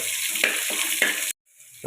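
Chopped onion fries in hot coconut oil with popped mustard seeds, making a close, steady sizzle with a couple of sharper crackles before it cuts off abruptly.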